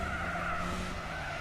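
A race car in Gran Turismo 4 on the Monte Carlo street circuit braking hard, its tires skidding in a sustained, loud squeal that holds steady under engine noise for the whole moment.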